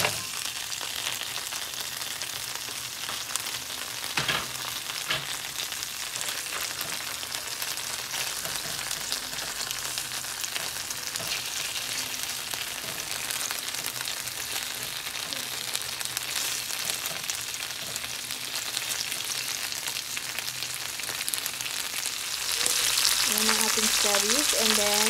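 Spices fry in a small amount of oil in a pan, a steady bright crackling sizzle that continues throughout and swells louder and harsher near the end as more is added.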